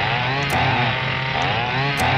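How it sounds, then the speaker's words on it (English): Chainsaw skis in a shooter video game give off a steady buzzing engine drone with a harsh revving tone, loud and continuous with a few brief sharp clicks layered on top. "Little victory lap with the chainsaw skis."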